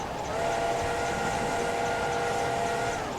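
Steam locomotive in the Train Simulator 2017 game on a London to York route, a continuous loud hiss of steam with a sustained whistle-like tone running throughout.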